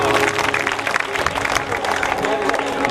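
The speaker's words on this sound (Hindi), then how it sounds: "एक बार हमारे बाबू के लिए जोरदार ताली बजा दो" Loud, sustained clapping from a crowd at a Shree Shyam bhajan sandhya devotional gathering in Mainpuri, dense and steady throughout, with voices mixed into the applause.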